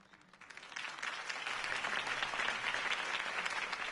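Steady applause from a large crowd in Batman: Arkham Origins, many hands clapping densely, building slightly in loudness and holding at a full, continuous roar.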